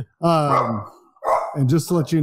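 A French bulldog barks a few loud, close barks that overlap a man's speech during an indoor podcast recording.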